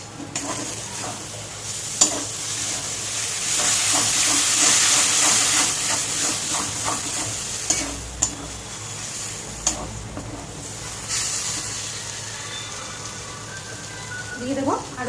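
Beaten sour yogurt hits a hot pan and is stirred: a loud burst of sizzling steam that settles into softer frying, broken by sharp scrapes and clinks of the spoon.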